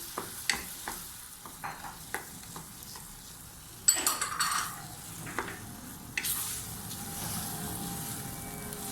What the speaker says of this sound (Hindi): अच्छे से हिलाते रहेंगे।